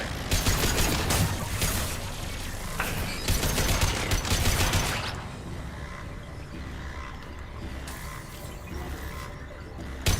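Heavy sustained gunfire from a firefight in Mass Effect 2, dense bursts filling the first five seconds, then easing into quieter mechanical background noise with a few sporadic shots.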